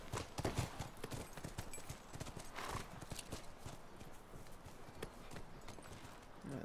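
Horse hooves clip-clop steadily in The Last of Us video game, a continuous rhythmic trot heard fairly close and loud throughout.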